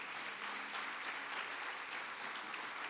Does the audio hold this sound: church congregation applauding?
yes